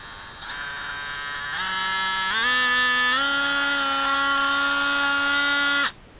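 A DeWalt XR DCS355 cordless oscillating multi-tool runs up steadily for about six seconds, its buzzing whine stepping higher in pitch as speed climbs, then cutting off abruptly at the end.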